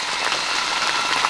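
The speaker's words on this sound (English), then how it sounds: "You can hear that the sleet is still coming down on the outside of the tent." Sleet falls steadily on the outside of a tent during an elk hunt at Cox Creek, Colorado, a dense, even patter and hiss of moderate intensity heard from inside, with no voices.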